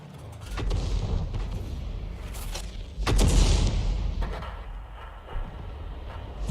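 Hummel self-propelled artillery gun in the tank battle game World of Tanks, firing a shot: a heavy boom around the three-second mark with a rumbling tail, amid mechanical creaks and distant low thuds.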